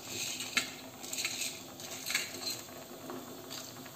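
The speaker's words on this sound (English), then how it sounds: "As the cumin seeds and peppercorns are getting tossed" Cumin seeds and peppercorns are tossed in hot oil. Faint crackling patter mixes with light metallic clinks and small scrapes of the pan, quiet and close. No voices.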